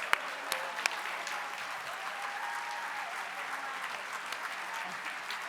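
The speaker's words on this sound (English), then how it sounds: "let's give all of our living legends of the Academy another round of applause" Steady applause from a seated audience at a Living Legends ceremony honouring the Academy's living legends, even and continuous throughout, with a few sharp claps standing out near the start.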